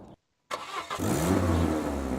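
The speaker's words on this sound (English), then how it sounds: "that's a better sounding engine" A car engine in This is the Police starts up after a brief silence and settles into a low steady rumble, loud and close with a slight revving swell.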